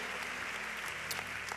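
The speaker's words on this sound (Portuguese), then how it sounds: "Dê uma salva de palmas a ele." A church congregation claps briefly, a short burst of even, fairly faint applause with a steady hiss of many hands.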